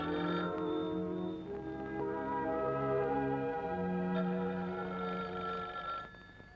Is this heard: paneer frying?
no